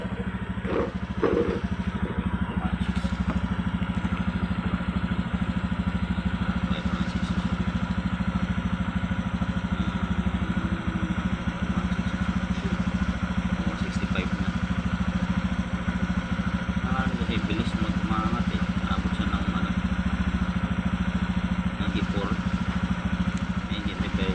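Honda Beat FI v2 scooter engine idling with a fault linked to the EOT sensor, a steady low rumbling drone with a light clatter, continuous and close throughout.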